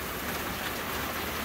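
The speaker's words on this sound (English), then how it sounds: "Sorry about the noise, you can see it's raining pretty good." Heavy rain pours down outdoors beside an electric Masterbuilt smoker, a dense, steady hiss of drops that stays constant and fairly loud throughout, with no voices.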